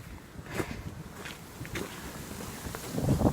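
Strong wind gusting outdoors in snow beside a freshly built snowman, buffeting the microphone with rough, uneven rumbling bursts and swells that build louder toward the end.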